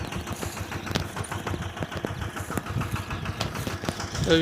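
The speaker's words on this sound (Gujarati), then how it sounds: "પ્રતિકભાઈ આ બાજુ હાકે છે ટ્રેક્ટર" A tractor engine runs steadily in a groundnut field, a close, continuous mid-pitched drone with a slightly uneven, throbbing idle rhythm throughout.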